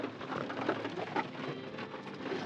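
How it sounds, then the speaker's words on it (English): Steady rain falls outside, a dense, even hiss of drops on surfaces filling the whole moment at moderate volume with no voices. "I don't know if you can hear, but it's raining"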